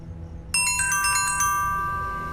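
Mobile phone ringtone abruptly starting after quiet room tone, a bright electronic chiming melody playing loudly and steadily, alone with no voices.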